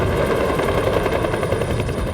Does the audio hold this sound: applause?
no